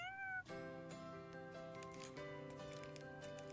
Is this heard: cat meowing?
yes